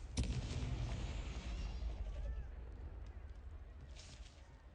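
A Confringo blasting curse in the video game Hogwarts Legacy bursts with a sharp onset into a loud, rumbling explosion that slowly fades.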